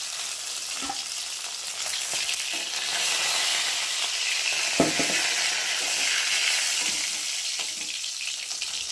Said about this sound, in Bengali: চলো মাছগুলোকে ভেজে নিই।